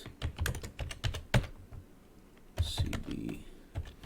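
Linux commands being typed on a computer keyboard: quick clusters of close, crisp key clicks, a brief pause, then another burst of taps with a faint voice.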